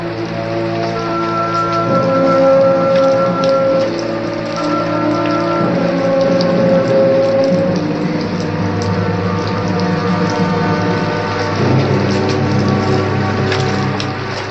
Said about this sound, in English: May 12, a rainy afternoon in Tombstone